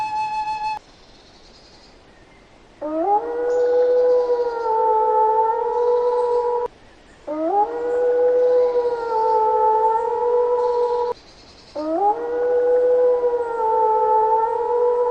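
A jackal howls at night in a cartoon folk tale, three long, rising and wavering siren-like calls separated by short gaps, loud and close with no talk.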